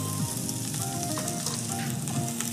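A mirepoix of onion, carrot and celery sautés in a pan, sizzling steadily and densely at close range with faint stirring scrapes and no voices.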